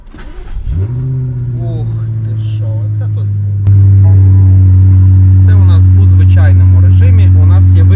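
A BMW M8 engine cranks and roars to life, settling into a steady loud idle before a sharp rev lifts it to a heavier rumble, with voices talking over it.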